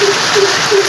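Monsoon rain falls steadily over a village, producing a soft, even hiss of drops on surfaces with a faint recurring hum underneath and no voices.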